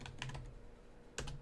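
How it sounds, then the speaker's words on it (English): Typing on a computer keyboard, a few quick key clicks, a pause, then another short burst of clacks, close and quiet with no talking. "All my typing kind of messed things up."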